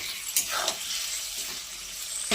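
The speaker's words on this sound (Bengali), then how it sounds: "ভাজা ভাজা করে নেব।" Chicken pieces frying with salt and turmeric in a pan, giving a steady close sizzle with brief stirring scrapes and bursts of hiss, no talking.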